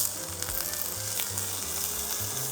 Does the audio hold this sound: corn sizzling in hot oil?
yes